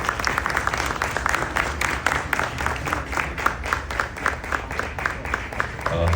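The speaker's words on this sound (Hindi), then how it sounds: "तालियां बजा करके" Steady, dense applause from an event audience in Chicheta welcoming actor Raghubir Yadav, a sustained wash of many hands clapping close and loud for several seconds without letup.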